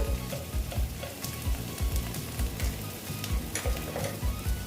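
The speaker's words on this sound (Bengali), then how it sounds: "এইবার আমি মশলাগুলো দিয়ে দিচ্ছি দেখো জিরে গুঁড়ো দিয়ে দিলাম" Cumin powder hitting onion and garlic frying in a pan, giving a continuous close sizzle with soft rhythmic stirring scrapes throughout.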